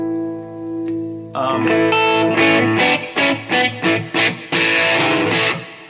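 A clean electric guitar, an EVH Wolfgang Standard through the clean channel of an EVH 5150 III amp with gain at about half: a soft sustained note, then loud strummed chords with several short choppy stabs, ringing with reverb.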